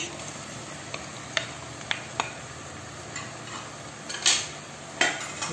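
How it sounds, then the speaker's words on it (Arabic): Onions frying with chicken pieces in a pan for a green bean and olive tagine, a soft steady sizzle with a few sharp utensil taps and scrapes against the pan, close and alone. "نخلي هكا البصل يبان مع يتقلى هكا مع الدجاج دابا كيتقلى لي مليح"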